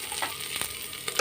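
Chow chow (chayote) and ridge gourd pieces sauteing in a pan, a steady soft sizzle with a few faint scraping stirs, heard alone and fairly quiet.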